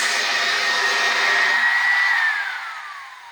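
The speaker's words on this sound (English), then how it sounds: "it goes to the end of your blow dryer so that the hair does not move" A hair dryer with a diffuser attached blows steadily with a loud, even whoosh and a high whine, then the airflow tapers off and the pitch drops as it winds down.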